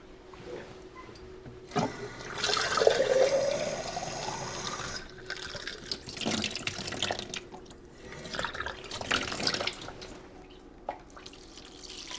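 Water pours and trickles into a tray to bottom-water seedlings, with a gentle stream, drips and light splashes close by over a faint steady hum and no talking.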